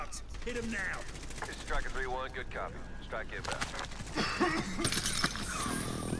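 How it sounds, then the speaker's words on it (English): Call of Duty Warzone gameplay with an airstrike and bursts of gunfire, heard as scattered rattling shots and impacts under steady voice chatter throughout. "I'm going to put the airstrike out just in case someone's running into it."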